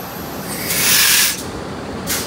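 A CC206 locomotive is uncoupled from the Sritanjung passenger train at Purwosari station, with loud bursts of hissing air over a low, steady rumble nearby.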